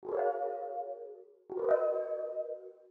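Two sustained electric-piano-like key tones come from the tail of a resampled sound with effects played in a sampler. Each starts sharply, rings with bright harmonics and fades smoothly, the second following after a short pause.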